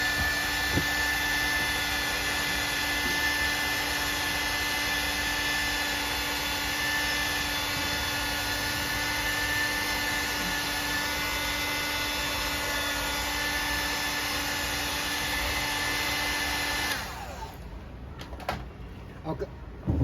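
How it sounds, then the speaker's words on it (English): A steady, loud whirring hairdryer hum runs continuously while drying thinner on a model Jeep diorama, then cuts off, leaving quieter handling noises and clicks. "I think I use a hairdryer to speed it along."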